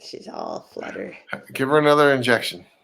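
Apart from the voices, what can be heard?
No everyday noises stand out.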